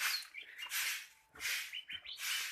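Pet bird chirping while set out in the sun, with bursts of bright, high tweets and squeaky calls repeating in close succession, fairly near and moderately loud, with short gaps between phrases.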